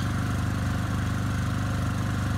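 A Honda EU2000 inverter generator with a propane conversion kit idles in eco mode, giving a steady, close, even mechanical drone with no talk.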